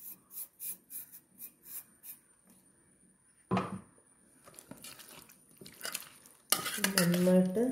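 Lemon pickle being stirred in a pot, with a run of rhythmic scraping strokes at first, then scattered clinks and rubbing, and a louder burst of scraping at the end.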